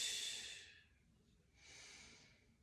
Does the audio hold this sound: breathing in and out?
yes